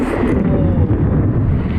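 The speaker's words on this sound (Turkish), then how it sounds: "Hava sağlam gürlemeye başladı" A loud, continuous low rumble of thunder fills the air, deep and rolling, mixed with heavy wind buffeting during a downpour on a bicycle ride.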